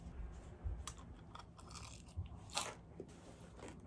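Crunchy bites into fried chicken breast coated in crisp rice paper, eaten as a diet-friendly fried dish, with several close, sharp crunches and chewing at an uneven pace and no talk.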